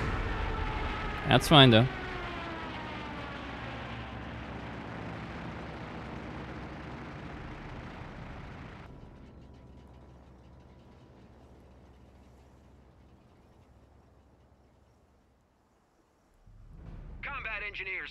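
Bombing explosions in the Company of Heroes 3 video game roll out as a deep sustained rumble after a sharp burst at the start, fading gradually to near silence before another rumble rises, with a brief spoken line over it.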